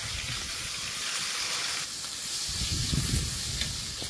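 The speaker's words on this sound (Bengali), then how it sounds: "এবার কড়াই এখন তেল দিয়ে দেবো, একটু জিরে, একটু রসুন, তেজপাতা," Oil in a wok frying cumin, garlic, bay leaf and chopped onion in a home kitchen in the Sundarbans, giving a steady, close hiss and sizzle that swells slightly toward the end, with no voices.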